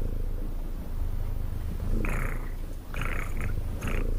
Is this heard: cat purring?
yes